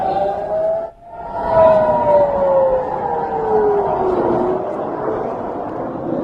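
Air raid sirens wail across the outskirts of Qatar in a loud, sustained rising and falling tone, briefly dipping before sweeping on, with a faint voice underneath.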